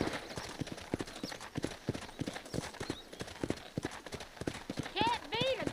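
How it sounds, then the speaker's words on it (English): Horses racing in Red Dead Redemption, a fast, rhythmic clatter of hooves galloping close by, with a horse's whinny near the end and a voice speaking over the hoofbeats. "Can't beat a good horse race."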